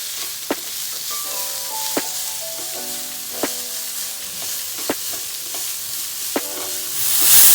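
Mushrooms fry in a pan for Pad Thai with a continuous close sizzling hiss, broken by sharp taps about every second and a half.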